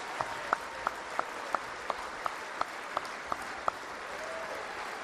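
An audience applauds Pearl Harbor survivors and World War II veterans at a 75th anniversary ceremony: a steady wash of clapping with sharper, evenly spaced claps standing out along its length.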